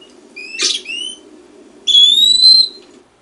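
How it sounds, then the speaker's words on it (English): Two whistled phrases come from an eastern wood-pewee, close and clear. A short slurred note is followed after a pause by a longer, drawn-out whistle, over a faint low background hum. "there's a peewee."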